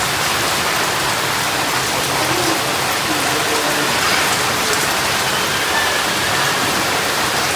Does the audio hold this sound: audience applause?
no